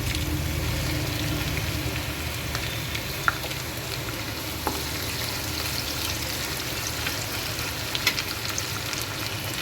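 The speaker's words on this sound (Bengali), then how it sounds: "পেঁয়াজটা একটু ভালো করে ভাজা ভাজা হবে" Onions frying in oil in a pan after garlic, for Bengali posto chicken, a steady moderate sizzle with fine crackling and a few sharper pops, continuous and close with no speech.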